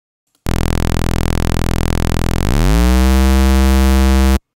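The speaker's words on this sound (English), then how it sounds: "Tone generator itself, when engaged, sounds like this." A steady electronic test tone from the standard Studio One tone generator plugin holds continuously, then its pitch sweeps and settles into a brighter, buzzier harmonic tone, loud and alone with no talking.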